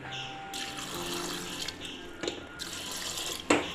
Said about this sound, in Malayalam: കുറച്ച് വെള്ളം ഒഴിച്ച് കൊടുക്കാം നമുക്ക്